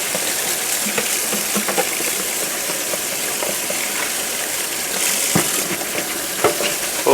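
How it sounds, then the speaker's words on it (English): A dishwasher part is scrubbed with dish soap and water, giving a close, continuous wet rubbing and sloshing with a few sharper scraping strokes near the end. "Give it a good scrubbing."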